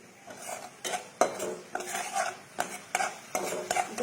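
A metal spoon scrapes and stirs spice masala with Kashmiri chilli powder as it fries in a pan, making rhythmic clinking and scraping strokes about twice a second over a soft sizzle.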